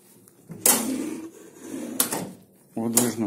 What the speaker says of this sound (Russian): Выдвижной ящик.